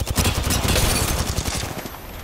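Rapid automatic gunfire from the video game Apex Legends during a ranked match, dense bursts of shots ripping continuously for about two seconds before easing off.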